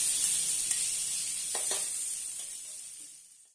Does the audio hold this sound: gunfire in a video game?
no